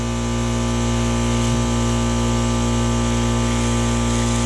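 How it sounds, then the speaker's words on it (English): A loud, steady mechanical drone with a constant hum from an air compressor running continuously without pause during a Harley-Davidson Iron brake flush. "There goes the air compressor on top of that."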